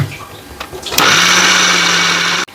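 Kitchen grinder grinding urad dal batter for vada switches on with a loud, steady high motor whine. It runs evenly for about a second and a half, then stops abruptly.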